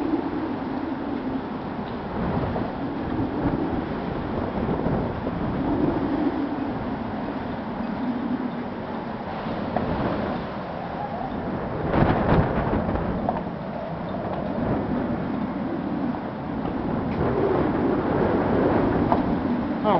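Hurricane Earl sweeps through Halifax, Nova Scotia as a continuous, gusty wind roar with low rumbling buffets against the microphone, rising and falling in strength throughout.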